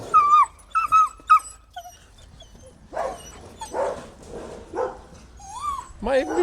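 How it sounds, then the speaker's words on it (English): Dogs bark and whimper close by, with high, squeaky whines at first and then a run of rough, agitated barks, and a person talks over them. "Might even be two dogs."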